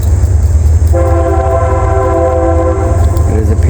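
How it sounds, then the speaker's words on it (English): A local train passes nearby, loud and steady, with a sustained multi-tone horn sounding for about two seconds over constant rumbling rail noise. "There's our local train."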